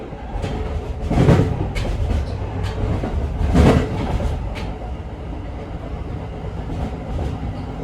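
Amtrak's westbound Pennsylvanian passenger train speeds downhill on the west slope near Altoona and Cresson, Pennsylvania, a continuous loud rumble of wheels on rail with rhythmic clickety-clack swells, heard from inside the moving train.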